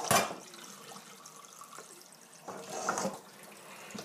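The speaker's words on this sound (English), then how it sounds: "And so I just run the cold water and put it in the pan itself," Cold tap water running into a pan for rinsing smallmouth bass fillets, a steady close splashing stream with louder gushes near the start and again toward the end.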